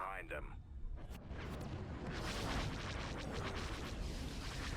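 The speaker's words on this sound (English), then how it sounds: "All the explosions." Space battle explosions from the strategy game Star Wars Empire at War: Thrawn's Revenge, a dense layer of booms and crackling blasts that swells and holds steady at a loud level.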